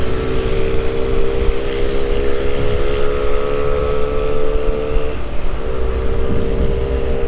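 Loud, steady engine drone from a car with a holed exhaust pipe awaiting welding, a continuous buzzing rumble with wind noise throughout and no talking.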